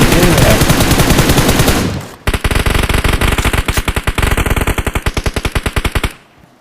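Automatic weapon fire in the BGMI battle royale game: a dense burst of rapid shots, a brief pause, then a long run of evenly spaced sharp, loud rounds that stops abruptly.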